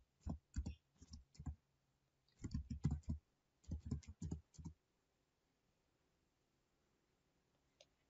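Bursts of quick keyboard typing, close and fairly quiet, in several short runs separated by pauses, ending with a single faint key click.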